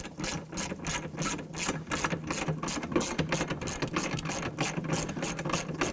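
A ratchet wrench backs out a 10mm bolt from the hood hinge of a 2015-2020 Ford F-150, its pawl clicking in steady, rapid bursts, close and loud throughout with no talking.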